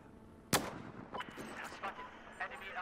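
A single sharp gunshot bursts out in Battlefield 4, followed by quieter scattered in-game combat sounds and faint background noise.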